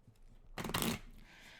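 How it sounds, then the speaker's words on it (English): A deck of playing cards is shuffled once in a single quick riffle-and-bridge burst lasting about half a second, close and fairly loud against a quiet room. "I'm going to shuffle 3 times."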